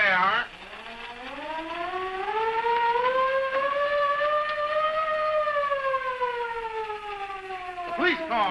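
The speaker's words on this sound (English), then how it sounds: "when I hear that old siren" An old police car siren wails in a W.C. Fields short comedy, one long rising and falling tone that swells loudly for several seconds before fading, with a second wail starting at the end.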